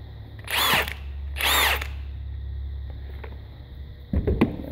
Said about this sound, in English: the snap-on drill, big 1/2-inch chuck drill.